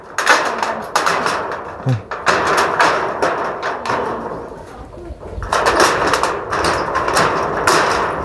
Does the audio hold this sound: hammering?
yes